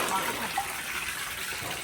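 Water gushes steadily from a newly drilled private well supply into a tank, a continuous broadband rush filling the whole clip, with faint voices in the background.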